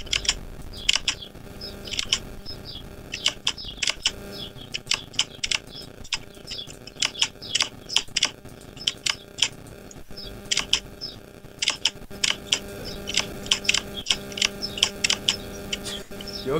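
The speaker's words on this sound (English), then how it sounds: "Your keyboard is like really loud." Loud computer keyboard typed in bursts of rapid clicking keystrokes, with short pauses between runs and a faint background hum.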